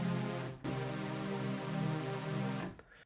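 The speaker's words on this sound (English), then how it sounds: "I'm going to load up the analog brass preset," Arturia Augmented Brass analog engine playing a three-oscillator sawtooth brass synth preset: a brief note, then a fuller sustained buzzy chord that holds steadily for about two seconds before releasing.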